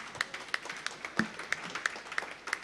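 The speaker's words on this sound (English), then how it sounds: "A round of applause" A small audience at a Reggae University 2008 session on European reggae claps briefly, with distinct, evenly spaced hand claps that sound sparse and modest rather than a big ovation.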